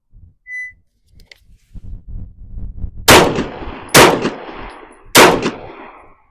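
Pistol shots from a Ruger RXM and a Glock 19X at a target range: three loud, sharp reports about a second apart, each with a ringing decay, following quieter clanks and handling noises.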